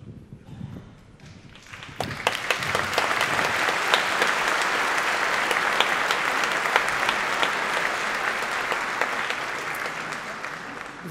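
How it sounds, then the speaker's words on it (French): Audience applause at a New Year's greetings ceremony in a French town hall: after a brief murmur, many people burst into steady clapping that holds evenly for about nine seconds. "Vous m'avez devancé, j'allais vous demander de les applaudir"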